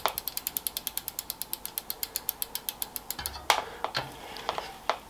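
Freewheeling bicycle rear hub on a Pinnacle Laterite clicking as the wheel spins, a crisp, even ticking of about six per second that stops abruptly, followed by a few scattered clunks and rattles.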